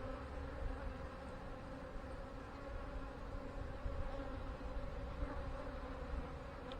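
Honeybees in an open queenless hive make a dense, steady buzzing drone. The hum stays close and continuous with no voices over it.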